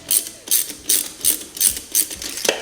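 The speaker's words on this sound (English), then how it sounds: "So 13 millimeter, we'll get those 3 bolts out." A ratchet wrench loosens the 13 mm valve cover bolts on a 1994 Chevy S-10 Blazer, six or seven quick, close bursts of metallic clicking in a steady rhythm, with no speech.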